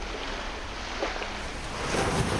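Ocean waves in a children's cartoon, a steady broad wash of surf that swells slightly louder toward the end, heard alone without talk.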